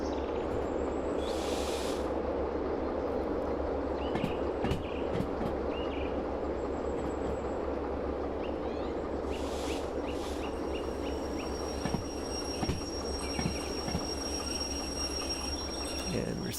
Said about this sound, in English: Let's bring the train to a halt before the next switch.